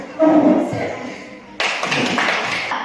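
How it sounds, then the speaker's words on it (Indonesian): Hand clapping from a group in a school session follows a brief voice, starting abruptly midway and continuing as a loud, dense patter to the end. "Terima kasih tepuk tangan untuk"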